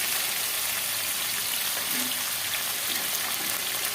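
Steady, loud sizzling of vegetables frying in hot oil, a continuous crackling hiss with no talking.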